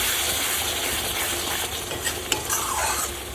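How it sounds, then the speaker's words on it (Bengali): Prawns sizzle loudly as they are stir-fried in a spice masala in a pan, with constant close frying hiss and scraping of the spoon throughout. "চিংড়ি মাছ দিয়ে ভালো করে মশলাটা একদম কষিয়ে নেব।"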